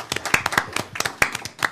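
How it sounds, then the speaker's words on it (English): A school board meeting crowd claps for a newly approved middle school assistant principal, a short burst of scattered, uneven handclaps close by. "So a round of applause for Jenny to welcome her to the team."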